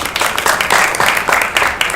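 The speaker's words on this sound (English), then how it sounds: "Can we have a round of applause?" An audience gives a round of applause at a motivational talk, with loud, close clapping in uneven surges over two seconds.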